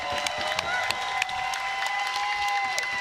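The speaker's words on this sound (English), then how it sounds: "How about one more large round of applause for both of these warriors?" Arena crowd applauding and cheering the two finalists after a pillow fight championship final, sustained clapping with scattered sharp claps and a faint whistle over a continuous crowd murmur.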